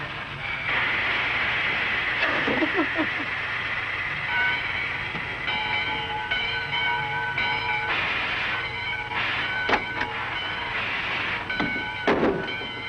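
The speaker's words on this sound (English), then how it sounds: "It's about time for the train to leave." A 1940s train pulls out of a station with a steady rumble, and a whistle-like tone sounds in repeated bursts over it. The sound is loud and close, with brief clanks and no talking.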